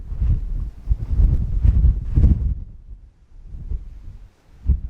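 Strong gusting wind on top of a small grassy knoll beside a parking lot, buffeting the microphone in deep rumbling bursts that rise and fall, loud and close, with no talk.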